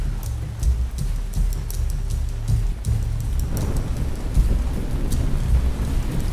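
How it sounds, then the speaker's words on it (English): Steady rain falls in the city-building game Ancient Cities, a dense continuous hiss with low rumbling underneath, loud and unbroken with no voices. "Oh, and some lovely rain."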